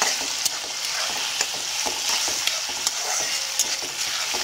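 Diced potatoes sautéing over medium gas for sabudana khichdi, a steady close sizzle with frequent sharp clicks of a spoon stirring against the pan, no voices.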